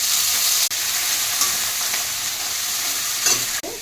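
Cumin, dried chillies and bay leaves frying in oil in a pan, a steady close sizzle with brief stirring scrapes and two short breaks in the sound, with no talking.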